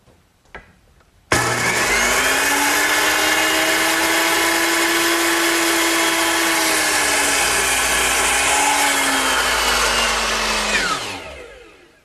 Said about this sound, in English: Now I'll cut it to the correct length.